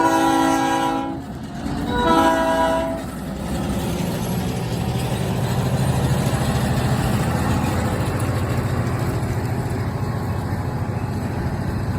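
A switcher locomotive in Blytheville, Arkansas, sounds two short horn blasts, then rumbles past with a steady, loud engine drone and rolling clatter that continues unbroken to the end.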